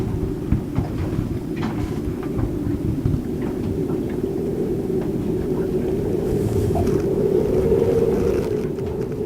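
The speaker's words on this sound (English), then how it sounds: "it's been blowing 20-30 knots since midnight." A boat sits at anchor off Portage Island in Miramichi, New Brunswick, while a 20-30 knot wind blows, making a continuous low roar that swells slightly without pause.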